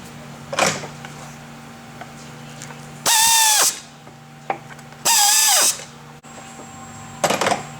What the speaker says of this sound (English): Reinstall your screws.